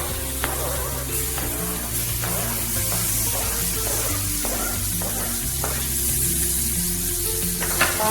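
Papaya pieces fry in ghee for halwa, giving a steady, close sizzle with occasional scraping and clicking as they are stirred. No one speaks.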